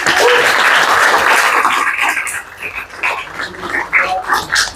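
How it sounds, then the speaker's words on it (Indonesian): Students in a classroom applauding, a dense burst of clapping that is loud at first, then thins into scattered claps and some voices toward the end. "Oke, tepuk tangan buat kalian."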